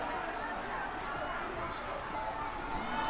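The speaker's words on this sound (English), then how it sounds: "Cesaro kicks out and the crowd is just coming unglued" A wrestling arena crowd in WWE 2K19 roars steadily after a kickout during a battle royal, a dense, continuous wash of cheering and crowd noise without pauses.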